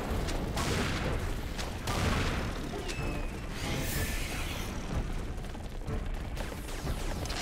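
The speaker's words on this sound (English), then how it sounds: "Insane cannon play!" Dense, continuous cannon fire and booming explosions from the shooter game Serious Sam 2, loud and chaotic throughout with repeated blasts layered over rumbling impacts.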